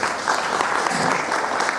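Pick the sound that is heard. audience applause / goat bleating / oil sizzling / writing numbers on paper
audience applause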